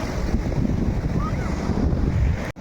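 Sea waves wash onto the seashore at Puri in a steady, loud roar mixed with gusty wind buffeting the microphone. The sound cuts out abruptly near the end.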